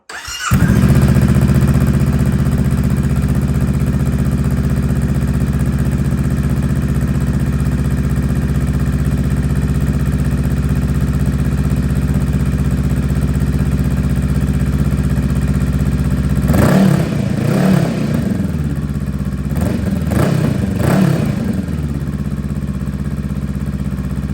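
A motorcycle engine running steadily with its regular exhaust muffler fitted, a loud continuous idle that holds for most of the stretch before a few sharp throttle blips near the end; no one talks.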